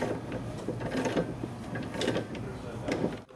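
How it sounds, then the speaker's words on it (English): Bolts being worked out of a steel-reinforced Stern pinball machine, with a steady mechanical whirring and clicking of a driver tool and rattling metal parts, close and continuous. "Now I have to take these bolts out."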